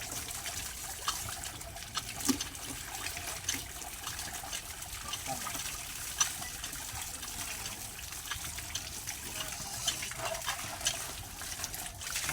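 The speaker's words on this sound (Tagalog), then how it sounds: "Hugasan natin mabuti." Raw chicken washed under running water in a kitchen, a continuous trickle and splash with small knocks and handling sounds, soft and steady, with faint voices in the background.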